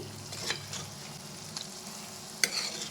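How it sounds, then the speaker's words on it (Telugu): An amla pickle mixture with chilli powder is stirred in a pan over low heat, giving a soft, steady sizzle with a few brief scraping clicks from the spoon and no talk. "ఇదంతా బాగా మిక్స్ చేసుకోవాలి"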